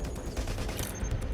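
Dense, continuous gunfire in Watch Dogs: Legion, sustained bursts layered over a low rumbling game soundscape without pause.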